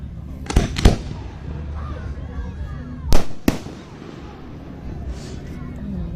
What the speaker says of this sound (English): Jesus, these fireworks are loud.